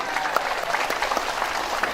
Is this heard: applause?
yes